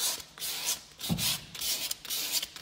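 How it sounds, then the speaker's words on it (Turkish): Sandpaper rubs back and forth over painted wood to distress a fireplace surround, steady rasping strokes in a close, even rhythm with no talk. "Zımparayla da bu şekilde eskitme yapabiliyorsunuz"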